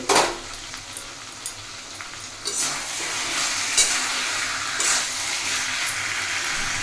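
Chicken being stirred in hot oil, a loud clatter at the start, then a steady sizzle with scraping spoon strokes that swell every second or so, close and without speech.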